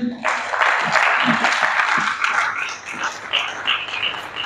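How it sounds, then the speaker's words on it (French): Audience applause in a church seminar hall, a dense steady wash of clapping that starts abruptly and runs throughout, with some voices mixed in underneath. "Est-ce qu'on peut applaudir?"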